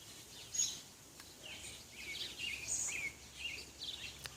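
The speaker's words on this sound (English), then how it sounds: "Listen to the birds." Birds sing outdoors on an early May day, light chirps and short warbling phrases repeating at moderate distance over a soft steady background hiss.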